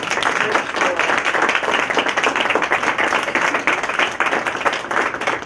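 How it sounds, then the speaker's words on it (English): A standing crowd at a university symposium claps steadily and loudly, dense applause sustained without pause from start to finish. "join me in giving another round of applause to both of our presenters today"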